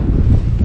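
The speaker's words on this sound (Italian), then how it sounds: "ovviamente vento contrario" Wind roars across the microphone while cycling into a headwind on a loaded touring bike, a loud, steady low rumble with no talking.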